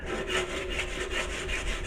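Dry 100-grit sandpaper rubs back and forth over filler on a motorcycle fuel tank in steady, rhythmic strokes, a close and loud rasping with no voices.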